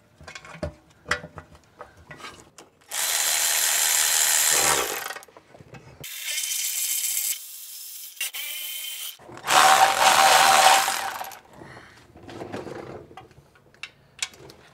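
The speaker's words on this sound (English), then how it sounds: "All right, so I just torqued all of them to 18 foot-pounds." A ratcheting torque wrench tightens the front differential cover bolts on a Tahoe, making three separate bursts of rapid, close ratchet clicking with quiet gaps and small metallic clinks between them.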